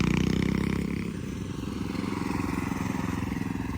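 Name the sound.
motorcycle engine while riding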